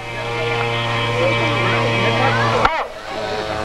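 A model aircraft engine screams at full throttle on a catapult, a steady high buzzing drone that cuts off abruptly near the end, leaving a quieter background.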